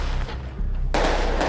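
Fireworks set off by lookouts at the entrances of a dangerous Rio de Janeiro favela as a warning: sharp, loud bangs and crackling pops in quick succession, fairly close, with no talking.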